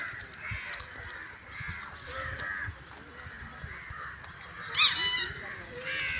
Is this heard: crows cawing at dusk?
yes